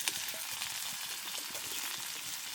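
Green chilies, curry leaves and pounded ginger and garlic fry in hot oil with a dense, even sizzle that holds steady throughout, close and moderately loud with no voices.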